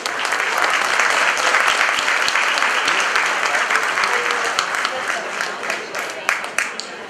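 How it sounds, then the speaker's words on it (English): Loud applause from a crowd at a holiday charity giveaway in a casino, dense steady clapping greeting a speaker, tapering slightly toward the end. "Big round of applause for him."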